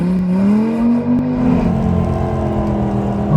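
An off-road Dodge Viper spins donuts on a dry lake, its engine roaring loud and close in a sustained rev that rises and holds, then surges again at the very end.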